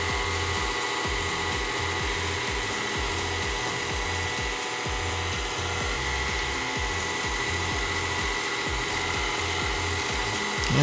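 A KitchenAid stand mixer with a pasta roller attachment runs steadily as homemade pasta dough is fed through, a constant close motor whir with a faint rhythmic ticking throughout and no talk.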